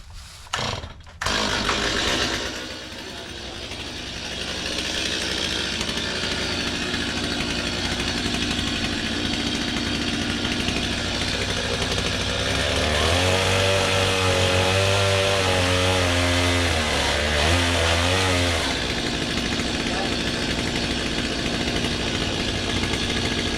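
A chainsaw runs steadily and loudly for the whole stretch at a sawmill setup, its tone rising and wavering as it works before settling back to a constant drone.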